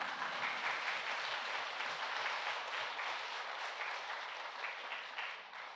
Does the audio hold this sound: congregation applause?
yes